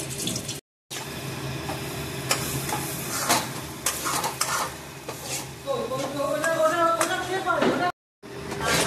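Lentil paste mixture for dhokar dalna frying in a kadai, a broad hiss and sizzle with stirring scrapes running throughout, a brief drop-out early and another near the end, plus a rising whistle-like tone late.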